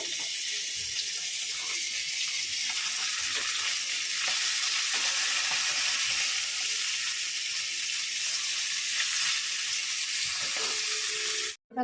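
Eggplant fries in oil in a home kitchen pan with a constant, close hissing sizzle that runs unbroken and evenly loud, then cuts off abruptly at the end, with no voices.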